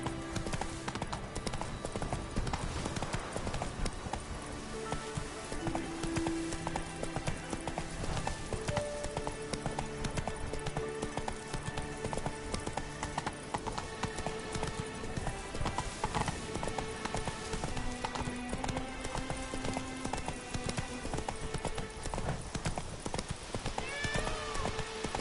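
Horse hooves clip-clop steadily on the ground as the horse Roach trots in The Witcher 3 video game, a continuous close rhythm mixed with game music and ambience throughout.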